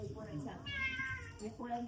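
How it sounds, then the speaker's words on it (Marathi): A cat meows in a long, clear drawn-out call during a village home visit, with people talking and calling to it throughout. "खूप मांजर आहेत."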